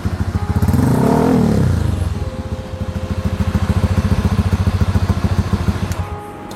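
A Honda Scoopy scooter with a swapped-in Vario 150 engine revved hard once, rising and falling, then dropping to a steady, close, throbbing idle.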